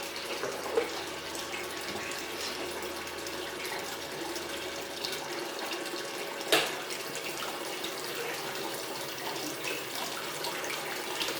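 Water runs steadily through a spiral gold wheel used for recovering gold, a continuous even rush with a couple of sharp clicks over it.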